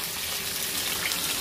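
Surmai (kingfish) fillet pan-frying on a low gas flame, a steady, even sizzle and crackle holding close and constant throughout with no talk.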